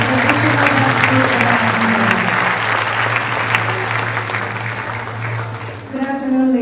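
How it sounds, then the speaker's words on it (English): Loud, dense applause from a large audience for a traditional dance group at Atma Jaya University of Indonesia, sustained and even, with a steady low tone underneath before it thins out at the end. "Let's give a warm round of applause for our traditional dance group."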